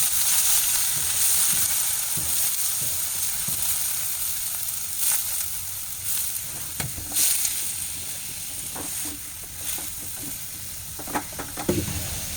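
Potato bhaji with green chili and turmeric frying in a pan, a steady close sizzle and hiss with occasional stirring scrapes and clinks throughout, no talking.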